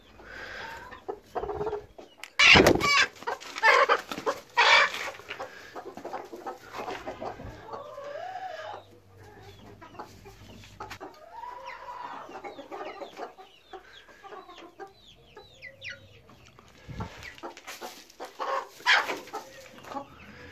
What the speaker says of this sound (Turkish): Tavuğumuz Gurk